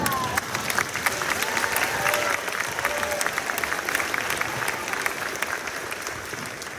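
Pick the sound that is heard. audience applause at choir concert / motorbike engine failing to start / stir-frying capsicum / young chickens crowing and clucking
audience applause at choir concert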